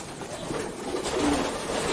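Pigeons cooing as they feed in a breeding loft compartment, a soft rolling coo rising midway over a steady low background hum, close and moderately loud.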